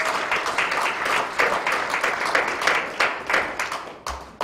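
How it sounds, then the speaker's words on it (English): An audience claps for an honoree at a Rev. Al Sharpton event, a sustained wash of applause with scattered sharper claps and a brief dip near the end. "please give a big round of applause for Vanessa Harris"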